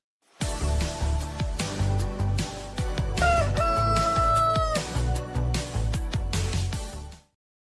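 A rooster crows loudly and close at hand, its call running through most of the clip over a busy, clattering mix of other sounds, with no one talking.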